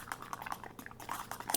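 Screwdriver stirring thick boot grease of pine tar and beeswax in a can: faint, close, irregular sticky squelches and scrapes in quick succession, no talk.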